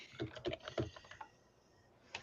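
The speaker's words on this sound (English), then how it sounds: "typing furiously on his keyboard to getting the script ready for our final words" Rapid typing on a computer keyboard, a quick cluster of soft clacks in the first second, then a pause and one last keystroke, faint and close with no talking.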